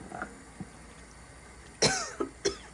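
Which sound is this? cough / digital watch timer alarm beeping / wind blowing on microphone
cough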